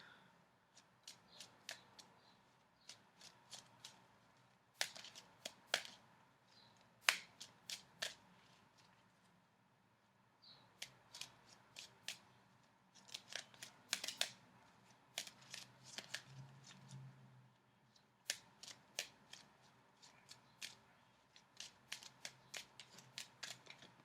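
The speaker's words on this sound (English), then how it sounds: "So I'm shuffling for a few more seconds." Tarot cards being riffled and shuffled in repeated crisp bursts, close and clear, with brief pauses between shuffles and no talking.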